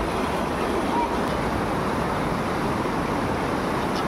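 Swollen river water after heavy overnight rain rushes with a dense, continuous roar, steady and fairly loud, with no clear voices over it.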